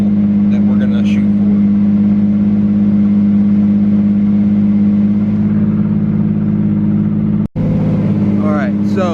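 Nissan S15 Silvia engine holding a loud, steady high-rpm drone on a dyno, with a brief cut near the end before the note resumes; faint talk is underneath.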